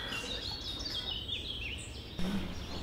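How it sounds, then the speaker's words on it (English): Faint, distant birdsong with scattered chirps and warbles over a soft outdoor hush of wind. "Birds in trees."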